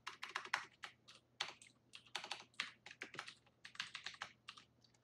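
Typing on a computer keyboard, quick irregular bursts of clicking keys close up, with short pauses between flurries and no voices.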